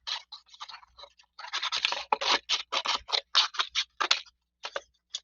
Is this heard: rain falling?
no